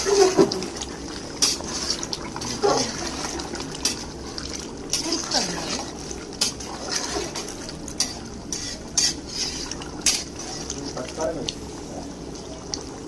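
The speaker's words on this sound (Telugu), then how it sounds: "ఆలుగడ్డ ముక్కలు ఉడుకుతున్నాయి." Potato pieces simmer in a tomato curry with green chillies, giving a low bubbling and occasional spoon-against-pot clinks and stirring noises, close and faint, while people talk throughout.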